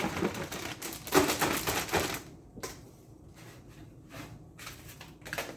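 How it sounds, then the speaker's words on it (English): Fresh zucchini dumped into a 1 gallon Ziploc plastic bag, a burst of crinkling, rustling plastic and tumbling pieces for about two seconds, then quieter scattered rustles and handling noises, fairly close. "take your zucchini, dump that into the Ziploc bag"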